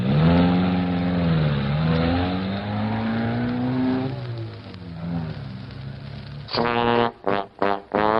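A car drives off, its engine revving loudly with a rising, gliding pitch, then settling into a rougher roar before a few short, sharp revving bursts at the end; no one speaks.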